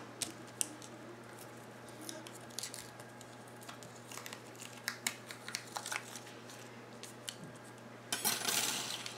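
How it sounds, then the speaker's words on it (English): Scissors cutting paper strips from a stamped sheet at a crafting table: a quick run of crisp snips at a close distance, followed by a brief rustle of paper near the end, with no speech. "I'm going to cut these out"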